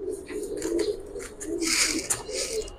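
A female pigeon coos in low, soft, repeated murmurs, close by, over a busy background of scattered higher noises.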